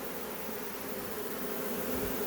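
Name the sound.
honey bee swarm in a hive box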